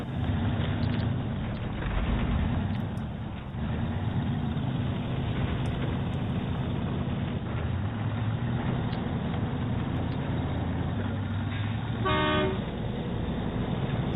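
A deep truck engine rumbles steadily throughout, then a single loud, short truck horn blast sounds near the end, in the video game SnowRunner.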